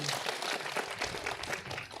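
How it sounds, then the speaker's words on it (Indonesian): An audience at a public event in Gorontalo claps for Anies Baswedan, a brief burst of dense, lively applause with some voices mixed in. "Beri tepuk tangan dulu yang meriah untuk Bapak Anies Baswedan"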